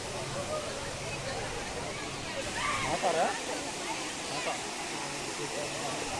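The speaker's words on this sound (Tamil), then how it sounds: "ஃபால்ஸ் கிட்ட வந்துட்டோம்." A waterfall near Munnar roars as a broad, steady wash of white noise close by, with faint voices murmuring underneath and occasional slosh-like swells.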